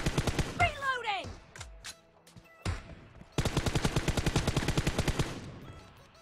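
Rapid automatic gunfire from the mobile battle game PUBG Mobile during a team deathmatch, with dense repeated bursts and short pauses under a voice talking.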